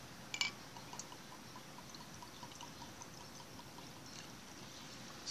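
Water poured into the bottom of a whiskey glass for tasting Hell-Cat Maggie Irish whiskey, a faint close trickle with small drips, quiet and unaccompanied by talk.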